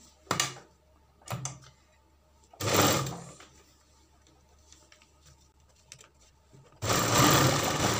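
A sewing machine stitches a strip onto a sleeve in short whirring bursts with pauses between them. A longer, louder run of stitching comes at the end, and no one speaks.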